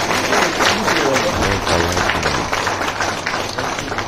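Loud, steady applause fills the hall as an audience greets Home Minister Amit Shah at a development project inauguration in Srinagar, with a few voices mixed into the dense clapping.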